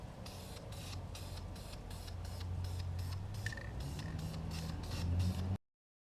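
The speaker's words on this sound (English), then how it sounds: "So here, I'm going to go spray paint this." A steady hissing spray from a spray paint can runs in short repeated bursts, fairly close and continuous, then cuts off abruptly at the end.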